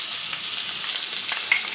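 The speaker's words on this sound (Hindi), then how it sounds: "इसे थोड़ा इसमें तेल में भून लेना है" Chopped onion fries in oil with garlic for methi sabzi, a dense continuous hiss of close sizzling with faint stirring ticks under it, no voices.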